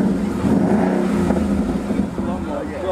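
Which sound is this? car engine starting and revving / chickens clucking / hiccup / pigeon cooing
car engine starting and revving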